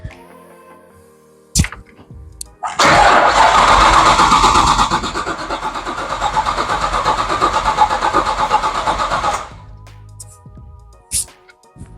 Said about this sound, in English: So I'm just going to crank it over.